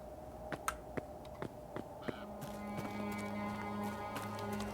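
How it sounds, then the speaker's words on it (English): Hooves clip-clop in a steady, fairly close series of sharp knocks, then a sustained background noise rises and the hoofbeats continue more faintly. "Horse."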